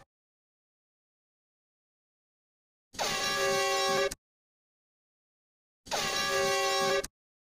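Two loud, identical air horn blasts, each about a second long with a bright, brassy buzz, separated by silence.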